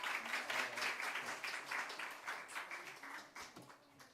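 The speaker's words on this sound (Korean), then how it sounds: "박수 한 번 더 해주시겠습니다." A church congregation gives a round of applause at a dawn worship service. The clapping is steady and fairly faint, with many hands throughout and fading slightly at the end.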